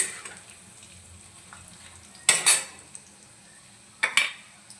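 Bitter gourd (karela) slices frying in a pan with a soft steady sizzle, broken by two bursts of stirring and clinks of a utensil against the pan.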